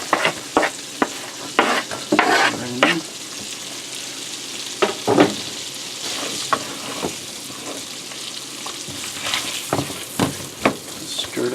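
Onions cook in warm butter in a pan, with a continuous close sizzle and repeated bursts of spoon scraping and stirring scattered unevenly across the clip.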